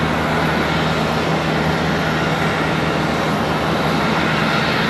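An Airbus A320 on a flight from Providence arriving at Charlotte Douglas airport makes a constant, loud broadband jet roar with a low engine hum, unbroken and steady throughout.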